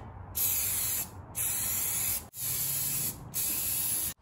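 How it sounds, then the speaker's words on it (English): Steel chassis tubes on a miniature electric Land Rover are welded together in four short, close-up bursts of harsh hissing crackle, each about a second long and separated by brief silent pauses. "so I'm welding them together for obvious reasons"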